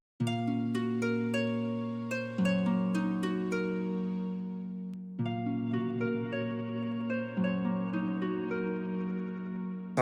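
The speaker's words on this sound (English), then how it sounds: "So without effects, it sounds like this." Dry string synth preset chords, without effects, play alone in sustained blocks that change every few seconds, moderately quiet with plucky note onsets.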